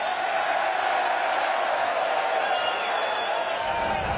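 A darts crowd at the 2015 Auckland Darts Masters applauds and cheers a checkout, a dense, steady roar of clapping and voices filling the arena throughout.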